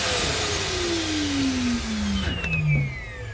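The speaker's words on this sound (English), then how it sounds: "Then above that, you've got your central vacuum system." The central vacuum system of a Montana 3121RL fifth-wheel RV runs with a loud, whining motor. Its pitch slides steadily downward as it winds down, and a second falling tone joins near the end.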